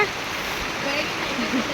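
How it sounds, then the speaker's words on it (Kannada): Heavy rain pouring outside a shop, a steady dense hiss of falling water, close and continuous with no other clear sounds. "ಮಳೆ ಎಷ್ಟು ಜೋರ ಐತೆ"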